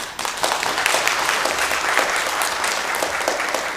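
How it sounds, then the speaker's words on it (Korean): A church congregation claps to welcome a visiting family during Sunday worship, a loud, sustained burst of many hands with an even, rattling texture. "우리 잠깐 일어서면 박수로 환영하겠습니다"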